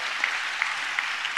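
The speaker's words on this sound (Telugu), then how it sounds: "చప్పట్లు కొడుతూ స్తోత్రాలు చెప్దాం" A congregation at a worship service claps along in a steady rhythm, a fairly faint, even patter marked by a few sharper individual claps, with no voices over it.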